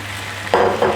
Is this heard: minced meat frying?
yes